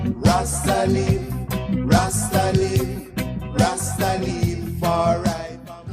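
A reggae tune plays loud and steady, with a repeating bass-heavy groove, rhythmic chords and sung vocals throughout.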